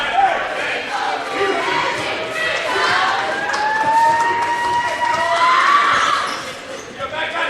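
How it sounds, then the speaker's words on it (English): Loud basketball crowd roaring and jeering steadily through free throws at a Judson vs. St. Francis game, a dense wall of voices with rising whistles and shouts throughout. "the distraction from the crowd seems to get him. They being very loud as he shoots those free throws"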